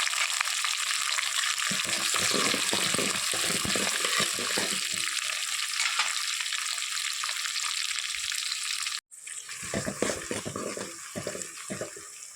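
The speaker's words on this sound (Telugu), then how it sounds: "ఇప్పుడు ఉల్లిపాయ ముక్కలు వేసుకోవాలి పచ్చిమిరపకాయ ముక్కలు" Chopped onion and green chilli sizzle in a pan of hot oil after fennel seeds have fried, for a village-style drumstick, tomato and cucumber curry. The frying hiss is loud and steady, broken by a brief gap, with light stirring scrapes.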